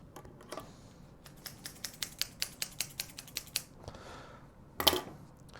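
Scissors snip through a thin metal coffee can lid in a quiet run of about a dozen quick, evenly spaced cuts, ending with a louder clack. The snips are close but soft, and no one talks.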